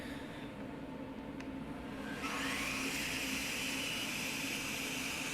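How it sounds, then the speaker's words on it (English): A track saw plunges into plywood during subfloor repairs on an Airstream Argosy trailer. A steady, loud motor drone runs throughout, and about halfway through the whine rises and intensifies as the blade spins up and bites into the sheet. "It's basically just plunging into the plywood and making my cut just right to my line."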